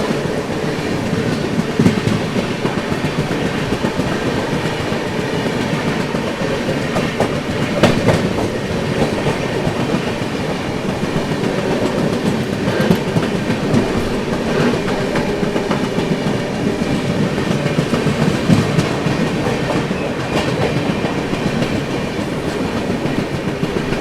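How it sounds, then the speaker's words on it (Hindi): The New Delhi–Banaras Shiv Ganga Express rushes past on the rails in India, a loud, steady roar of wheels with rhythmic clickety-clack over the joints that lasts the whole stretch, close and continuous, with no talking. "चलिए आगे है सामने से 1260 न्यू दिल्ली बनारस शिव गंगा एक्सप्रेस।"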